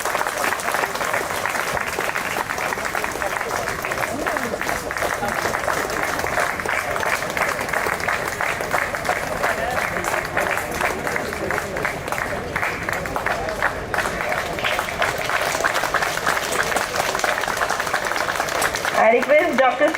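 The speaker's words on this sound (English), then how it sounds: "Claps, please. Please clap." Audience at the inaugural ceremony of the 52nd SSBMT Outdoor 5th Zonal applauds in a sustained, dense, even round of clapping that runs throughout, ending with a voice at the close.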